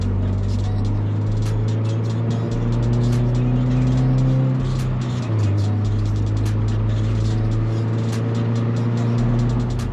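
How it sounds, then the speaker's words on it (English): Toyota GR86 or Subaru BRZ engine heard from inside the cabin without synthetic sound enhancement, a steady low droning hum at cruise with a slight pitch drop midway as the revs shift. "This right now is no fake engine noise,"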